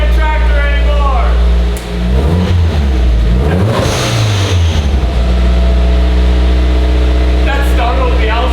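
A turbocharged Nissan S14 car engine runs close by, holding a steady low rumble with a brief rev swell in the middle before settling back to a smooth idle; a person talks over it throughout.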